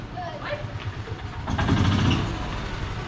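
A 1999 Chevrolet S10 with an LS-swapped engine and built transmission revs up while power braking, its rumble rising and swelling midway into a loud, sustained drone, with people talking over it.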